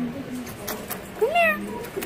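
A baby kitten gives a single clear, rising-then-falling meow close by, with a person's soft voice faintly audible around it.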